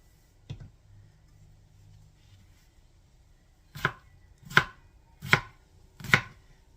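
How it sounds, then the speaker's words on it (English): A knife dicing potatoes on a cutting board: one isolated chop, a pause with faint rustling, then four sharp, evenly spaced chops, close and crisp against near silence, with no talking. "I'm going to get all of these potatoes diced up"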